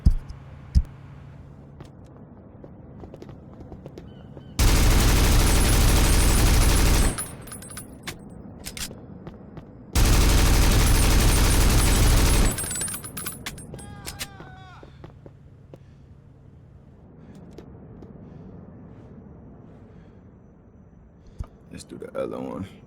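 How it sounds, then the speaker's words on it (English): Modded guns fired in Grand Theft Auto IV, two loud sustained bursts of rapid automatic gunfire lasting a few seconds each, separated and followed by quieter stretches where someone talks. "Now let's hear the gun sounds real quick."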